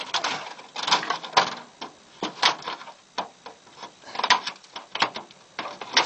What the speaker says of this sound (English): The BrandGuard vent comes with a screen, so I'm going to pull this screen out.